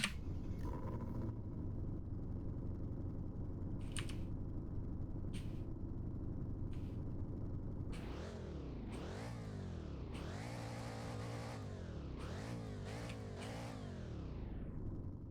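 A supercharged Ford Mustang Dark Horse SC engine idles with a deep rumble, then revs repeatedly in sharp rising and falling bursts, loud and close.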